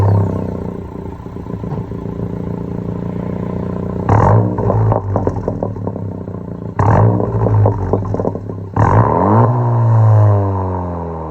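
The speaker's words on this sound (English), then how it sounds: "it's a good exhaust. It sounds great." A 2018 Honda Civic Si 10th-gen coupe with a muffler delete idles with a deep, growly exhaust rumble, then gets several sharp revs that rise and fall back, loud and close.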